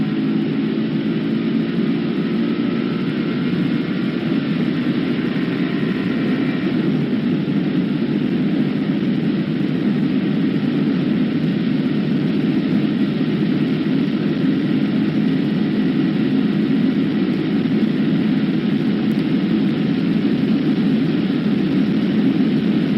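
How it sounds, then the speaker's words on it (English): Engine of an upgraded Ford Mustang GTD driving the Nordschleife, a loud sustained roar heard from inside the car, steady throughout with no talk. "I'm going to give you some Ford Mustang GTD ASMR"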